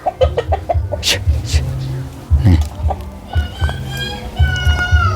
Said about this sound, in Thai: ไก่แม่ลูกอ่อน จะไปนอนทางใดล่ะมัน